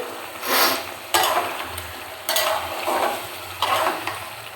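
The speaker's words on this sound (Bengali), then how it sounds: "এবার ভালো করে কষিয়ে নেব" Food being sautéed in a pan: four or five rhythmic scraping stirs a second or so apart, each a short rush of sizzle over a low background, close and fairly loud, no talking.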